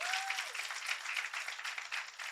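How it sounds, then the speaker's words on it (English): An audience at a Women of Distinction awards event breaks into steady, moderately distant applause, a dense wash of many hands clapping continuously for a couple of seconds. "Let's give them a round of applause."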